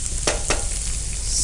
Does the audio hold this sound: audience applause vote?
no